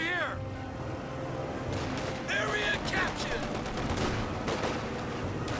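Rapid bursts of .50 cal machine gun fire in the Company of Heroes 2 video game, mixed with other battlefield gunfire and booms, loud and continuous, with commentators talking over it.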